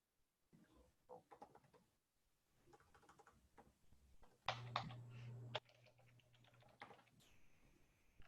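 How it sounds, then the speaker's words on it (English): Quick, irregular clicking from a computer keyboard in bursts of typing, quiet and close, with a brief louder noise partway through and no talking. "Bad typing on my part."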